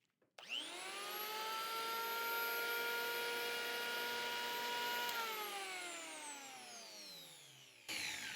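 A drill held in a portable drill guide spins up and bores into 1-inch hard maple clamped in a vise, a steady loud motor whine holding for several seconds before winding down in pitch and cutting off.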